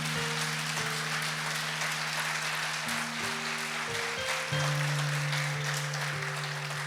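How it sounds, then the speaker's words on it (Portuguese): Church congregation applauding during a service: steady, dense clapping from a crowd that continues throughout, blended with sustained keyboard or organ chords. "Aplauda o Senhor aí em nome de Jesus."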